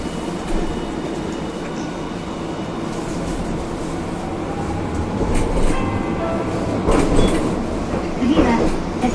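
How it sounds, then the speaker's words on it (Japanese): A Hiroden 1000 series Green Mover LEX tram with Toyo IGBT drive pulls away in Hiroshima, its motor whine rising over a steady interior rumble and rail clatter, with faint voices and cabin sounds aboard. "電車が動きます。"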